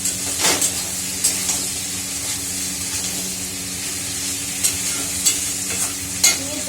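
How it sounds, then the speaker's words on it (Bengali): Chickpeas fry in a pan, giving a steady close sizzle broken by several sharp scraping stirs of a spatula, with no voices. "ছোলাটাও বেশ ভাজা ভাজা হয়ে যাবে"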